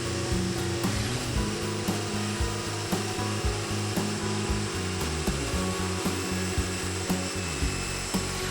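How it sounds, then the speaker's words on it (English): A jigsaw cutting straight through wooden boards for an epoxy-coated hexagonal penny table, loud and close, with a rapid buzzing reciprocating chatter that runs continuously with slight shifts in pitch. "I cut as straight as possible using my jigsaw"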